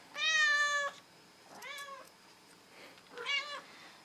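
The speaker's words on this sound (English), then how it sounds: "that is my cat." A house cat meows three times indoors, a long loud cry followed by two shorter, softer ones with quiet pauses between, close to the microphone.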